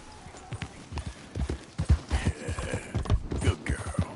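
A horse gallops in Red Dead Redemption 2, its hooves pounding out a quick, rhythmic clip-clop close by over soft background ambience.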